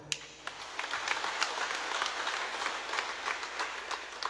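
Applause from a congregation at a Catholic sermon, a fairly faint, loose patter of hands clapping at a distance throughout, with scattered sharper claps standing out.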